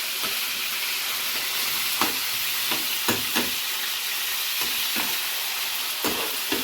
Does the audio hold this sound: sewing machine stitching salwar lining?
no